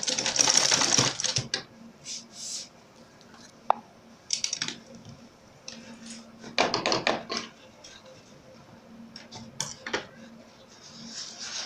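A sewing machine stitches nylon webbing onto the back piece of a laptop backpack, running in several short, loud bursts of fast rattling separated by pauses and faint handling noise.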